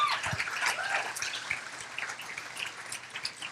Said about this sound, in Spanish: Un aplauso para Pris.